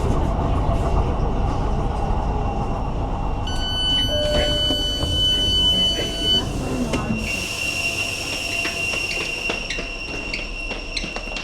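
A Newcastle metro train runs loudly with a rumbling roar, wheel clatter and high squealing tones, the rolling noise continuous from nearby, while a person talks over it.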